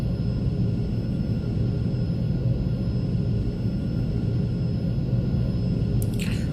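An F-16 jet taxiing in the X-Plane 12 flight simulator, a steady loud engine rumble and whine that holds evenly throughout, with a brief higher hiss near the end.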